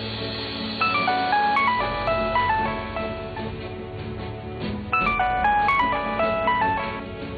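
A phone rings with a looping electronic ringtone melody, two repeated bursts of bright tune over a low background hum, with no talking.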